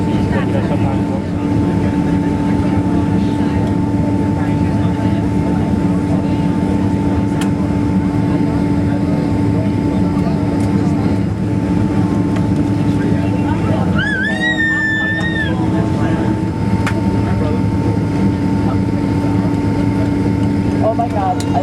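A Delta Airlines Boeing 767-300 lands at San Francisco, heard from inside the cabin as a loud, steady engine drone with a constant low hum, a brief chime partway through and people talking.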